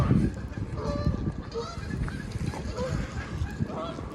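Several geese honking repeatedly at close range near a marina in Nottingham, overlapping calls in an uneven chorus with some background noise.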